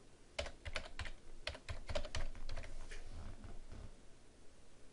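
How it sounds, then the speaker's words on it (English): Quick bursts of clicking keystrokes on a computer keyboard, close by, in irregular runs that slow and thin out toward the end. "I can get those by typing into the search box."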